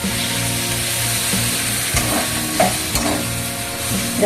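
Frying in a pan during home cooking of a poppy-seed curry with soybean, cauliflower and new potatoes, ground green chilli just added; a steady close sizzle with stirring scrapes and a few sharper clinks, no voices.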